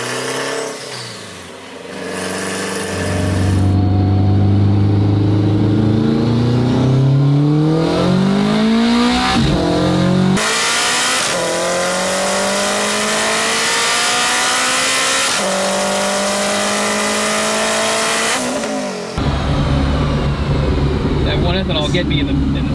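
Turbocharged K-swapped all-wheel-drive Acura RSX on E85 ethanol accelerating hard through quick sequential gear shifts, loud engine pitch climbing and dropping in repeated pulls, with brief talk inside the car.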